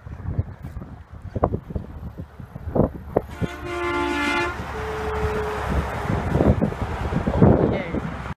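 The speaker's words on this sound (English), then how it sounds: "here comes another semi! Woo! And guess what? We're gonna have it honk at us." A passing semi truck sounds its air horn in a sustained, multi-tone blast lasting a couple of seconds amid roadside traffic rumble, with a few scattered voices and bumps around it.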